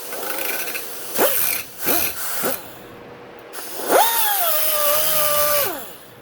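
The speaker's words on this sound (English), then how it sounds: "So, grind away at it a little bit more," A grinder wears away a motocross dirt bike steering stem bearing: a loud, close, gritty whine with a few short bursts, then one long sustained pass.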